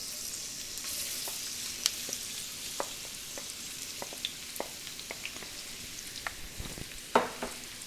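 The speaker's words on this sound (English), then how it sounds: "I'm going to saute this in this ghee for some time" Thinly sliced onions sauté in ghee in a pan, giving a steady, close sizzle broken by scattered clicks and scrapes from stirring, with no talking.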